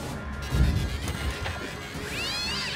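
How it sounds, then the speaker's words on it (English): Cats meowing and caterwauling in the South Park: The Fractured but Whole video game, amid crashing and whacking combat noises, with a rising, wavering cry near the end over a steady game background. "Those kitties look kind of cute, but they're not."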